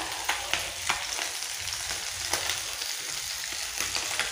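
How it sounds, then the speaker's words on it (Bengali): Cumin seeds sizzle in hot oil while a Bengali cabbage dish with rohu fish head is cooked, a steady close crackling hiss with scattered sharper pops and no talking. "তেল গরম হয়ে গেছে। দিয়ে দেবো জিরে"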